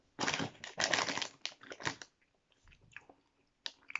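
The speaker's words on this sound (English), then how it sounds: "I'm still chewing on these millions." Chewing on Millions chewy sweets, close up, with a run of loud wet crunchy bites in the first two seconds, then softer intermittent chewing and a final burst.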